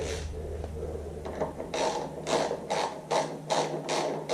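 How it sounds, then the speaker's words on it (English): A socket-set ratchet tightens the wheel bolts on a Moto Guzzi Griso motorcycle, giving a series of close, rhythmic clicking bursts with short pauses between strokes and a low background hum. "Then you get the socket set and you can just do it up"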